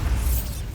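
Bombarda spell in Hogwarts Legacy bursting as a loud, deep explosive boom with a rumbling low end, brief and close, no voices over it.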